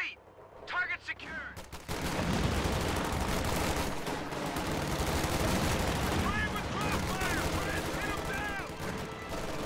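MG42 machine gun fire in a strategy video game, rapid bursts layered with other battlefield gunfire and explosions, dense and continuous at a moderate level, with voice callouts mixed in.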